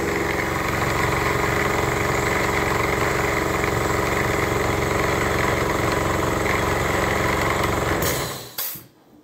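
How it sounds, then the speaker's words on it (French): An air compressor hooked up to pressurize a gas line for a leak test runs steadily and loudly with a constant motor drone, then cuts off abruptly near the end, leaving a brief near-silence. "je vais monter la compresseur au-dessus. Je vais la faire brancher directement sur le PC gaz"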